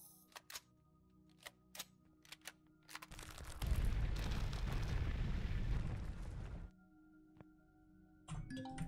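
A loud burst of gunfire and blast noise in the video game Empyrion Galactic Survival lasts about three seconds, framed by sharp clicking effects before and after.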